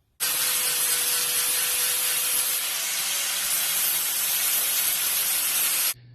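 A steady, loud cutting hiss runs unbroken for about six seconds as excess weld is cut off the screw box of a blacksmith's leg vice, then stops abruptly.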